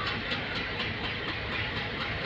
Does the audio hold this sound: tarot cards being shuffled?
no